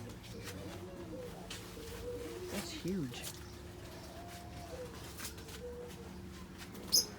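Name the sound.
birds in a cage, lovebirds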